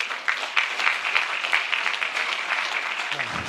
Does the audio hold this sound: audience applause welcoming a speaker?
yes